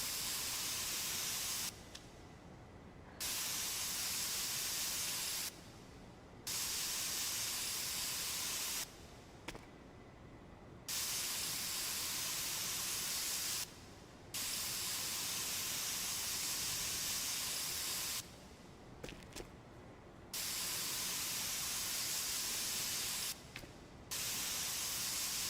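Paint sprays from a large nozzle in a video game in long, loud hissing bursts, repeated about eight times and separated by short pauses of quiet.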